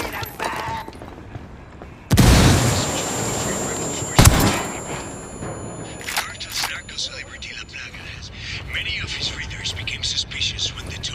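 In Ghost Recon Wildlands, a frag grenade goes off with a sudden heavy blast and a rumbling decay. A second sharp, loud gunshot-like crack follows about two seconds later, and voices talk around the bursts.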